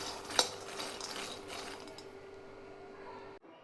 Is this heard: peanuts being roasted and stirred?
yes